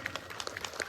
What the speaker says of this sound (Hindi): आदरणीय विधायक जी को जोरदार ताली से स्वागत करें आप